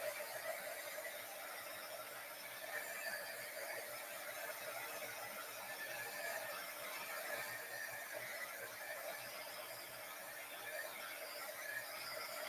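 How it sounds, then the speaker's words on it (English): A craft heat tool blowing steadily while heat setting a project, a constant whirring hiss with a faint high whine, unbroken throughout. "Never gets old watching heat setting."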